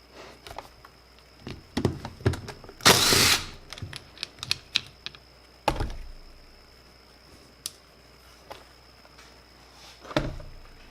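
A tool working on the carburetor of a Yamaha SUV 1200 personal watercraft as screws are removed, giving short metallic clicks and scrapes, one louder whirring burst, and scattered taps close by.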